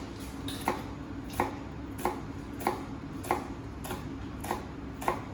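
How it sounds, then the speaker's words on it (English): A knife cuts vertical slices through a vegetable, root left on, for a brunoise. Eight crisp, evenly spaced thunks on a board land about every two-thirds of a second over a quiet background. "we want our vertical slices down"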